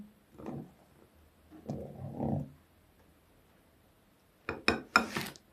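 Zebra cake batter made with vinegar is stirred in a bowl with soft scraping swishes, then a few sharp clinks of a utensil against the bowl's rim; quiet and close.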